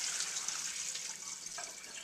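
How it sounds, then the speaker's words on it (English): Pasta cooking water poured from a pot into a kitchen sink, a continuous hissing rush of liquid running and splashing steadily for a couple of seconds, fairly quiet with no talking. "drain the water out into the sink"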